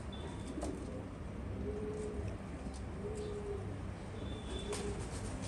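Racing pigeons coo in soft, low, rolling calls that repeat a few times at an unhurried pace over a steady background hiss, with faint higher chirps mixed in.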